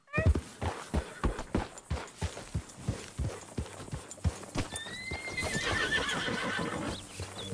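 A horse in Red Dead Redemption 2, set in the town of Valentine, clip-clops at a steady walking pace with close hoofbeats, then gives a shrill whinny partway through.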